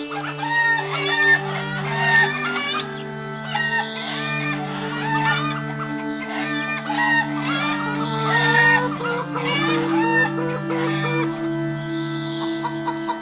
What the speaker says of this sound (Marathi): रामूकडे काही कोंबड्या होत्या.